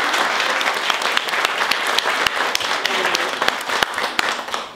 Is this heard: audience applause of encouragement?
yes